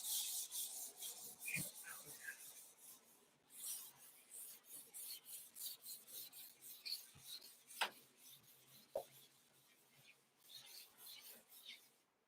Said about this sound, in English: I'm going to rub the board off whilst I try and think about what my favorite proof is